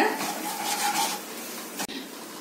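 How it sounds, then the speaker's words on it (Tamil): Chili powder fries in hot oil on a stove over a medium flame, making a soft, close hiss and crackle that eases off, then one sharp click near the end, with no talking. "இந்த மிளகாத்தூள் நல்லா பொரிஞ்சு வர ஆரம்பிச்சிருச்சு"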